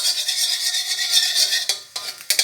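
Garlic is stir-fried in a little oil in a pan, with a bright sizzle and scraping stirring strokes close up, plus a few sharp utensil clinks near the end.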